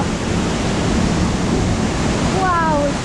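Tvinnefossen waterfall in Norway roars from close behind the falling water, a loud broadband rushing wash, with a brief voice rising near the end.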